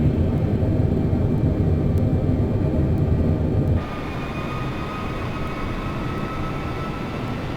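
A propeller airplane engine in a flight simulator game, droning steadily on approach to land, loud and continuous at first, then dropping to a quieter, thinner hum as the throttle is pulled back.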